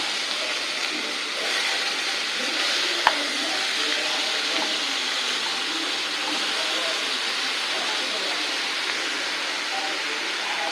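Onions dropped into hot oil in a pan for a beetroot dish, giving a steady, loud, even hiss of frying that runs without pause, with a single sharp click early on.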